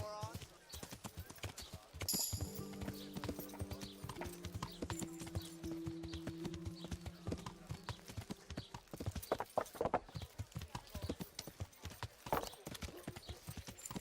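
Horse hooves clip-clop in a steady, rhythmic gait in the Kingdom Come: Deliverance video game, moderately close and continuing throughout. Tonal game sounds and a voice are heard over them.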